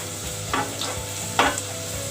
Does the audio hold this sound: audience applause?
no